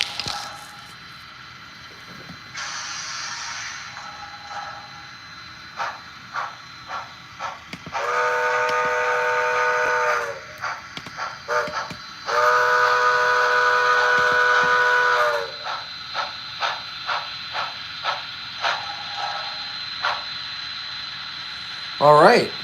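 A toy train whistle blows in long sustained blasts, separated by rhythmic chuffing puffs, close by, with occasional talk.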